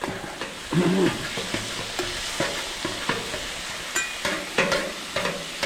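Lean ground deer meat fries in a pan with a continuous sizzle, punctuated by regular scraping and tapping as a utensil breaks it apart and stirs it.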